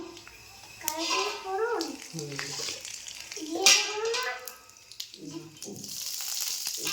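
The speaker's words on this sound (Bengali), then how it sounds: "এটা কালো জিরে ফোড়ন দিলাম" Black cumin seeds crackle and sizzle in hot mustard oil, a steady frying hiss beneath a voice speaking throughout, with a brief clink of utensil partway through.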